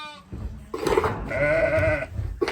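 A sheep that may have just given birth bleats in a long, wavering cry that rises and falls, close by, with rustling and shuffling noises around it.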